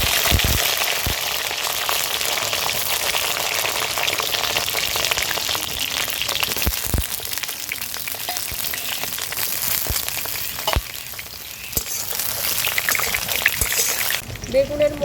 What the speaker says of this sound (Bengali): বেগুনগুলো ভেজে নেব।